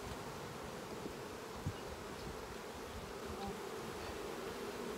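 Honey bees buzz around an open hive in a steady, dense drone that holds even and fairly faint throughout, with no voices.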